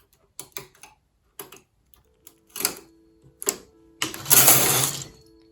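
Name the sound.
knitting machine carriage knitting a cable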